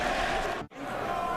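A boxing arena crowd at the Prudential Arena cheering and roaring in a dense, steady wash of noise, broken by a single brief dip near the middle.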